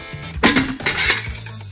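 A pressure cooker lid is handled in a kitchen, giving a brief burst of metallic clinks and clatter, close and fairly loud.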